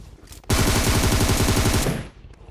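Rapid automatic gunfire in the mobile battle-royale game PUBG Mobile, a loud close burst of fast evenly spaced shots lasting about a second and a half, with quieter background sounds before and after.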